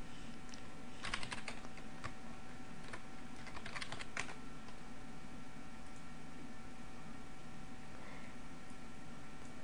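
Typing on a computer keyboard while editing web page text with a browser tool: scattered clusters of light key clicks in the first half, then only steady background hiss and hum.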